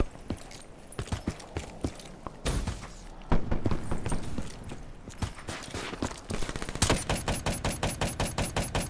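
Rapid bursts of video game gunfire from a gun-game match, with dense clustered shots early on and a steady, evenly spaced volley of loud reports toward the end, with no voices.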